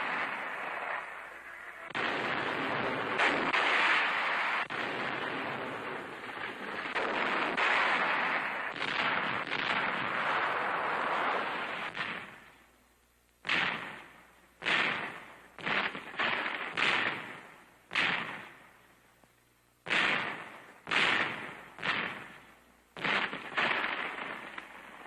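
Dynamite blasts from wartime artillery training in 1943: a long sustained roar of explosions, then a rapid series of separate loud booms, each dying away quickly.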